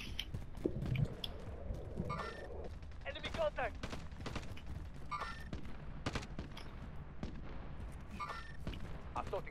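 Gunfire in Call of Duty: Modern Warfare on Rebirth Island, scattered bursts of shots and rattling automatic fire at moderate distance, intermittent across the span with players talking over it.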